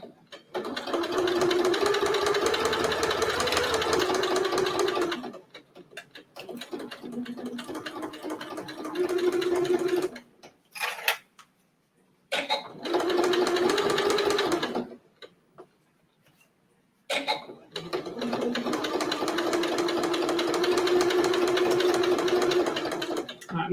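A domestic sewing machine stitches Italian leather at a quarter-inch seam allowance, running in long steady bursts of rapid mechanical chatter with short pauses and clicks between runs.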